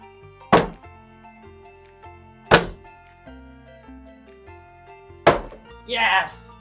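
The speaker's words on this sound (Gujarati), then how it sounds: "તો મિત્ર બીજો ફૂગો આપણે ફોડી દીધો છે તમારી નજરની સામે જ છે" Balloons are burst one after another during a challenge, three sharp loud pops spaced about two seconds apart over a tonal background, followed by a rougher burst of noise.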